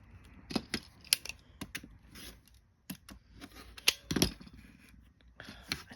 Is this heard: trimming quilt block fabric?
yes